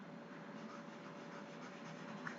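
A marker or chalk writes on a classroom board during a maths lesson, a faint continuous scratchy rubbing over low room hum, brief and quiet with no talk.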